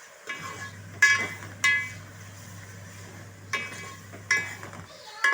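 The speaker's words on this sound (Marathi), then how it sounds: "आता ढवळून घ्यायचं" Onions frying in a pan with asafoetida are stirred, giving a soft sizzle under several sharp metallic clinks and scrapes of the spoon against the pan, spaced irregularly over a few seconds.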